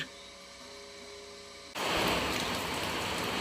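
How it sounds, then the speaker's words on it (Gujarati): Heavy rain falling during a downpour, starting suddenly partway through as a loud, dense, steady hiss of rain that continues to the end after a quieter opening. "જોરદાર વરસાદ પડ્યો"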